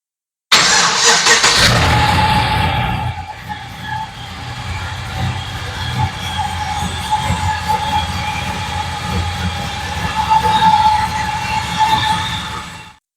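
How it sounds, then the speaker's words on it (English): A Holden Commodore with an LS1 V8 cranks and fires, then settles into a loud, steady idle that echoes off the walls of an underground car park. "I'll start it up for you guys and you can hear it. It's going to echo a bit in this underground car park"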